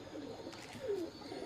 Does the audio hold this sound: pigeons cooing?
yes